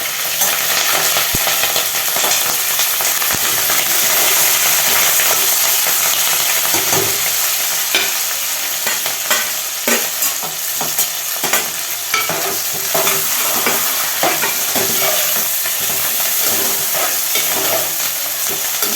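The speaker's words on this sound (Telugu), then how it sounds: "నూనె వేడెక్కింది. ఉల్లిగడ్డ, పచ్చిమిర్చి," Onions and green chillies tossed into hot oil for an okra fry crackle and sizzle loudly and steadily, with repeated scraping stirs of a spoon against the pan close by.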